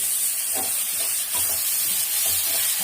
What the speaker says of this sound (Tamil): வெங்காயமாக நல்லா வதங்கணும்